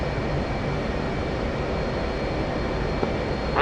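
A fixed-wing aircraft engine in a flight combat video game spools down to idle, a steady broadband drone with a faint high whine holding throughout, close and continuous, with no voices.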